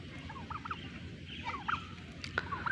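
Several domestic turkeys gobbling and calling nearby over a low background hum, short warbling bursts repeated a few times.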